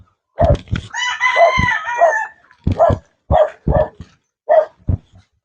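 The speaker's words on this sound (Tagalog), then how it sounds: "Daming alaga, daming manok." Roosters crow loudly and close by on a mountain farm full of chickens, with dogs barking in short sharp bursts around the drawn-out crowing calls.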